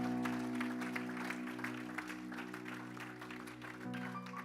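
Church congregation clapping during a Sunday worship service, a steady wash of hand claps over sustained organ or keyboard chords, moderately loud throughout.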